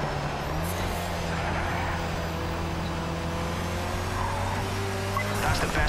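KTM X-Bow R race car in Project CARS 3 at Longfield, its engine droning at a steady pitch through corners with a brief pitch shift near the end, loud and continuous.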